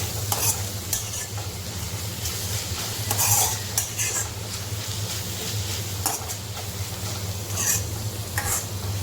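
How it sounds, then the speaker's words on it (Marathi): Onion with a little salt sautés in a pan as a spoon scrapes and stirs with repeated metallic clinks and scrapes over a constant close sizzle and low hum. "कांदा असाच व्यवस्थित परतून घ्यायचे आपल्याला त्याच्यामध्ये थोडंसं मीठ टाकून घेऊया"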